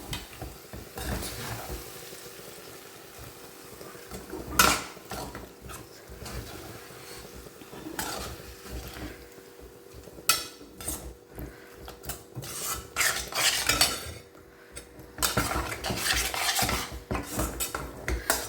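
A spoon scrapes and stirs a mango ginger pickle mixture in a pan over a medium flame, with irregular metallic rasps and knocks against the pan and quiet sizzling between strokes.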